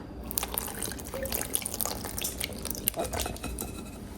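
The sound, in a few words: pouring custard over bread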